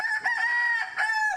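A rooster seized from a suspected cockfighting ring crows once, a loud, close, sustained cock-a-doodle-doo with a strained, quavering tone and no other sounds around it.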